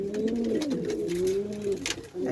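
A pigeon coos close by in a pigeon house in low, rolling, repeated notes, with no talking.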